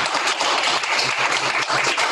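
Steady, dense applause from an audience at a user group session thanking a guest presenter, continuous and fairly loud throughout with no break.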